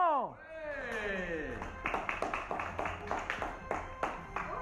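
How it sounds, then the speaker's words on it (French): Scattered clapping from a small group at a playful indoor activity-park event, a few distinct claps building after a sliding whistle-like tone, with talk mixed in. "Bravo, applaudissements s'il vous plaît."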